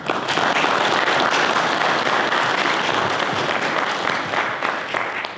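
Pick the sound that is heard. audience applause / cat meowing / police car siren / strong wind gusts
audience applause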